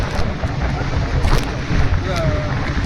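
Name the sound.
boat moving on the sea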